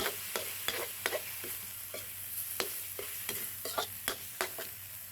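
Field catfish are stir-fried with southern Thai curry paste in a hot pan, giving a steady close sizzle punctuated by repeated sharp scrapes and clacks of a spatula at an irregular rhythm.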